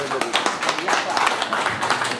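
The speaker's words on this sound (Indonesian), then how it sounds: "Tepuk tangan dong." A short burst of clapping from an audience at a public outreach meeting, scattered hand claps heard close and mixed with talking voices.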